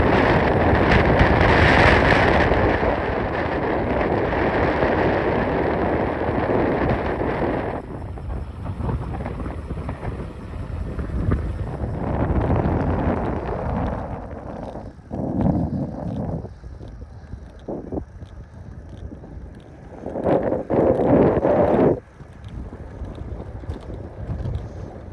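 Strong wind buffets the microphone in loud, roaring gusts over the rumble of water, easing and surging before a final loud blast.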